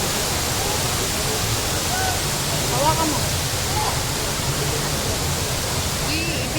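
Taytay Falls waterfall roars as a steady, dense wash of water noise filling the whole clip, with a person speaking briefly over it.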